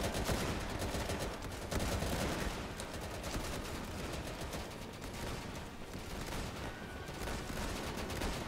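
Dense, continuous gunfire from the video game Easy Red 2, overlapping bursts and rapid shots at steady loudness, with distant volleys layered under nearer fire and no talk.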